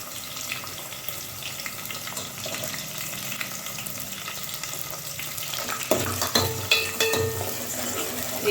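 Onions sizzling in hot oil with mustard seeds, green chilies and curry leaves for a fish curry, a steady loud frying hiss with spatula stirring and scraping clatter growing more prominent toward the end.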